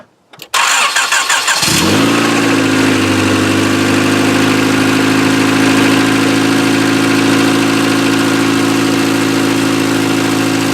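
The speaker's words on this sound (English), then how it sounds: "let's go ahead and start up the engine and see if there's any misfires" A 1995 Honda Civic engine with newly installed spark plugs cranks briefly, catches and settles into a loud, steady idle that continues evenly to the end.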